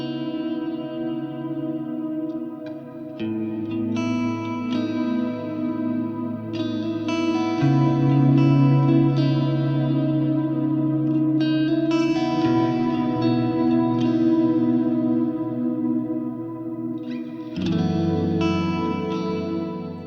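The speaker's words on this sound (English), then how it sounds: "all the way up makes a bright, regenerating shimmer" Sustained guitar chords through a Nucleo octave shimmer effect pedal swell into a bright, shimmering octave-up wash, layered tones ringing and regenerating with lush reverb as each chord changes.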